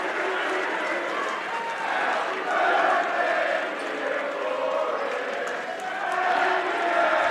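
Crowd at a boys 2A regional high school basketball game between Pinckneyville and Belleville Althoff gives a fouled-out player a sustained round of applause, a dense, steady roar of clapping and cheering that swells slightly midway.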